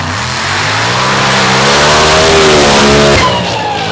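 Drag racing car with a lifted supercharger blower finishing a run at 222, a loud close engine roar with a rising high-pitched whine that drops away sharply near the end, no voices.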